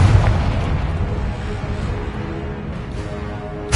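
A Confringo explosion spell goes off in Hogwarts Legacy as a loud, sustained rumbling blast with heavy low boom and crackling debris, filling the whole moment before a sharper burst right at the end.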